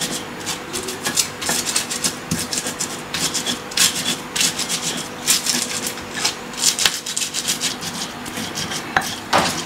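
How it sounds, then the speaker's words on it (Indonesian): Chili and shrimp paste are ground in a mortar with a pestle, giving a steady series of close scraping, rubbing and tapping strokes with an uneven rhythm, for mango rujak and with no talking. "Kita ulek dulu sampai halus."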